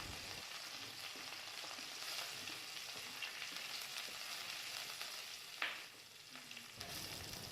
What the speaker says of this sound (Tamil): அதை இது கூட சேர்த்துட்டு நல்லா வதக்கி விடுவோம்.